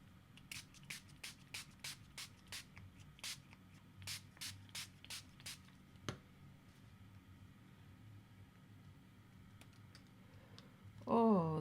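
Short bursts of Mr. Huey's Color Mist Gold being sprayed from a bottle in a mixed media craft session, about a dozen quick hissing puffs in an uneven rhythm over the first half, then quieter handling noises.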